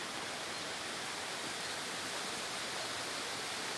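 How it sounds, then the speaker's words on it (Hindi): A waterfall dropping from a great height in the mountains near Manali, heard as a steady, dense broadband rush of falling water that stays constant and unbroken throughout, with no voices. "मेरे पीछे एक वाटरफॉल भी है। काफ़ी अच्छा वाटरफॉल लग रहा है, ये काफ़ी ऊंचाई से आ रहा है"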